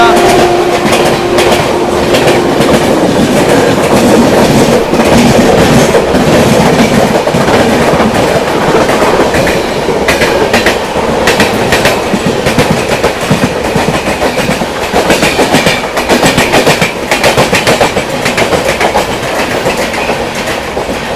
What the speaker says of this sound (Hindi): सामने से जहाँ तक है आप लोगों की गोड्डा नई दिल्ली हमसफ़र एक्सप्रेस आ रही है